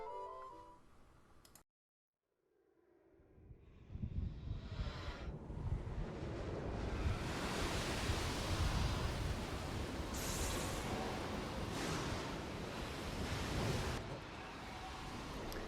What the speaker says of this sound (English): The first scene of the game is a boat trying to get through a howling storm.